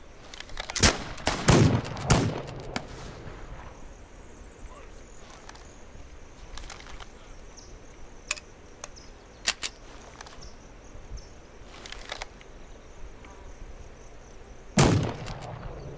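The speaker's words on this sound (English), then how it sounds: "Rifle does a really good job." Rifle shots ring out in the video game This Land Is My Land, a few sharp, loud cracks spaced apart over a quiet ambient bed, with a cluster early and one near the end.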